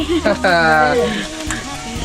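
Food sizzles loudly in a hot iron pan while a voice speaks over it, the frying hiss steady throughout.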